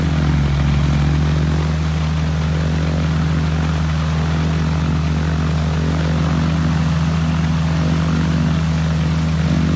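A Kitfox light aircraft's fuel-injected engine runs at a steady, loud propeller drone with a deep hum that holds constant throughout, with no voices.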